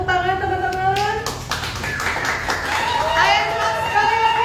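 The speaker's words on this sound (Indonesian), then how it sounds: "Boleh tepuk tangan teman-teman?" Audience applause at an anti-narcotics community forum: a burst of scattered clapping that builds and continues under a voice talking over it.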